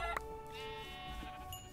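A Minecraft sheep bleats clearly, a drawn-out wavering baa that trails off, over a faint background hum.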